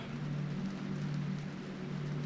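Steady rain hissing outdoors, a constant wash of noise with a low hum underneath and no voices.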